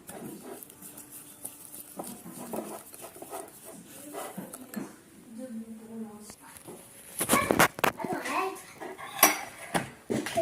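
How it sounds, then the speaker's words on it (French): A piece of wood stirs an oily mixture in a bowl, with soft scraping and clinking against the vessel that turns into sharper, louder knocks toward the end. "Je prends un morceau de bois pour mélanger."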